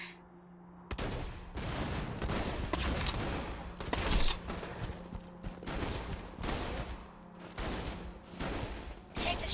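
Rapid gunfire bursts from a shooter video game played on a Gamesir X5s telescoping Bluetooth controller, loud and dense with repeated shots and brief pauses across the whole stretch.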